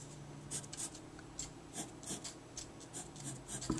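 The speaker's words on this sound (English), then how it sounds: "I'm going to mark my positions in pencil." A pencil writes on paper, marking positions on a cyclohexane chemistry drawing. Faint, close scratchy strokes come in short irregular bursts.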